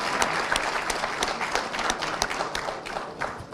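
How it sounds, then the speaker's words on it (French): An audience at a conference hall applauds, many hands clapping in a brisk, dense burst with sharp individual claps on top, steady in loudness and fading slightly at the end. "et ça mérite des applaudissements."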